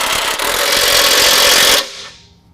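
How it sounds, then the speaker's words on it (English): A power impact wrench tightens a bolt on a Fabtech 6-inch coilover lift kit bracket held flat against the frame of a 2019 GMC Sierra 1500, a loud continuous rattling burst that cuts off and rings down. "go ahead and tighten down this bolt"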